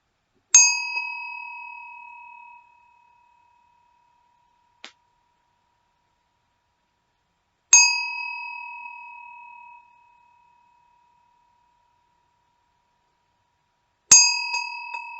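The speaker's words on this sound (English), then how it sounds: "So as I ring the bell to end the meditation" A meditation bell is struck three times several seconds apart, each strike ringing clearly and then fading into silence, with a faint tick between the first two strikes.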